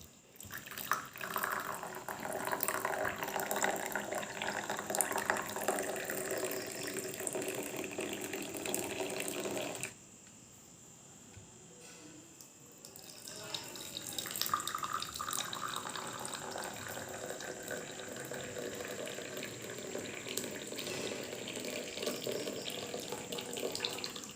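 Boiled water at 100 degrees or above pours steadily into a cup for tea tasting, a continuous splashing stream that stops briefly midway, then resumes and runs on to the end.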